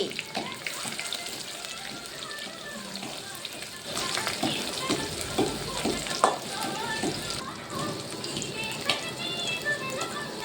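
Onion and mustard seeds fry in a pan with a soft, steady sizzle and occasional stirring, fairly faint, while a person talks over the cooking.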